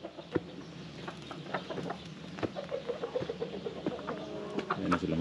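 A castrated rooster and hens cluck repeatedly, with short irregular calls and soft murmuring close by in a farmyard, the clucks coming in bursts over a low ambient background.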